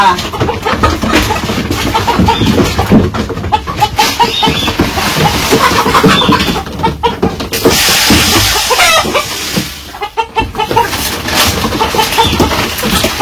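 Hens cluck repeatedly in an irregular stream of short, close calls in a Bangladeshi village, with other birds faintly in the background and no talking.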